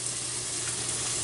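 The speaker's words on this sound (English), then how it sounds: "So you're frying some bacon. You're sweating some onions with it." Bacon and onions sizzle in a frying pan for pasta carbonara, a steady close crackle with no pauses and no voices.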